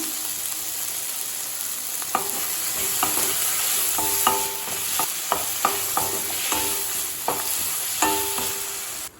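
Tomatoes and ginger sautéing in a pan for Tamil-style peanut chutney: a steady close sizzle broken by repeated sharp scrapes and taps of a spatula against the pan, with no one talking.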